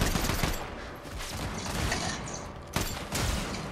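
Shotgun fire in the Fortnite video game during a boss battle: a dense, loud burst of gunfire with a sharp blast near the end, no talking.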